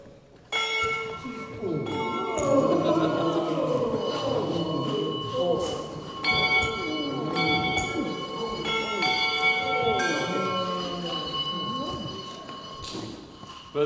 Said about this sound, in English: new bells were made of many kinds, but the heavens groaned at their awful chimes